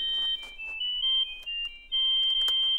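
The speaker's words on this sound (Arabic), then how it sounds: "حضرتك يعني تليفون يا باشا." A phone ringtone plays in a comedic sketch, a steady electronic melody of sustained tones with brief breaks, loud and close, repeating through the whole stretch with no talk over it.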